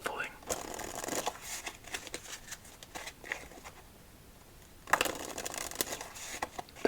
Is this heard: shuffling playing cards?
yes